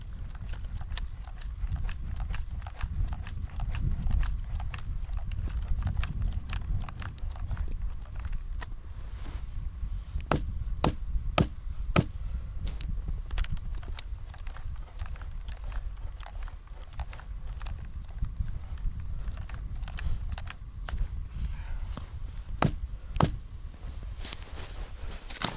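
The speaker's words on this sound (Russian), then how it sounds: "Сейчас топор хорошо взял." An axe bites into frozen wood in a forest, striking again and again in an uneven rhythm of sharp cracks, some louder than others, over constant low outdoor rumble.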